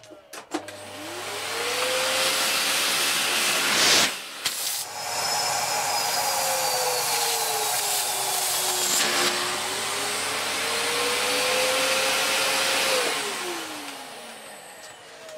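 A Lux 1 Royal D820M vacuum cleaner runs with suction as a loud, steady whine whose pitch rises and falls as airflow changes, with a short dip near four seconds.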